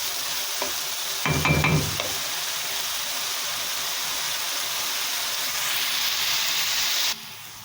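Onions fry in a pan while being stirred toward golden brown, giving a continuous sizzle and hiss with a burst of scraping stirring near the start, close up and without speech.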